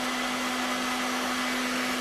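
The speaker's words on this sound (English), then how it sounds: "So the blow dryer does work." A blow dryer runs steadily over a FAMOWOOD glaze coat finish, giving a constant close whine and airy roar with no change in pitch.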